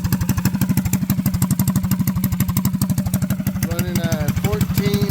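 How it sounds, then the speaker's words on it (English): A Predator 212cc small engine idles on its stock carburetor, a steady, fast, even chugging that runs loud and close throughout, with a faint whistling tone near the end. "Just wanted to give you a little idle, the last idle from the stock carb."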